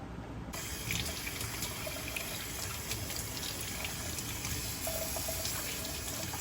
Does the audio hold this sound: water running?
yes